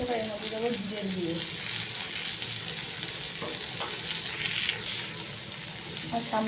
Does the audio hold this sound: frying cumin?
yes